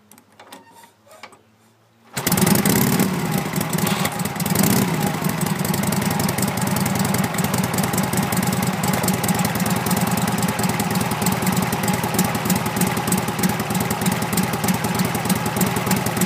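A 1947 Harley-Davidson FL Knucklehead motorcycle starts up and settles into a loud, steady idle with a rapid, uneven chugging beat that continues throughout.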